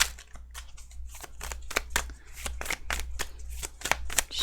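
A deck of tarot cards being shuffled up close, a run of crisp riffling flicks and slaps in an irregular rhythm, with no voices.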